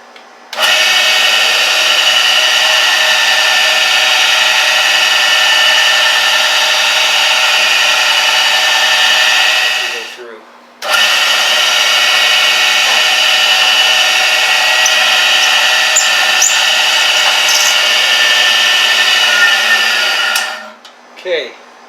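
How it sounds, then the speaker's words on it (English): A drill boring a hole straight down through a metal part clamped in a vise on a milling setup, a steady loud whine running about ten seconds, pausing briefly, then running another ten seconds before stopping. "and drill a hole straight down."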